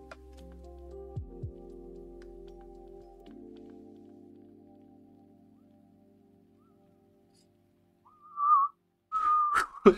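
A person tries to whistle during a LEGO build, giving a few short, broken whistle notes near the end after a low, steady stretch and a quiet pause.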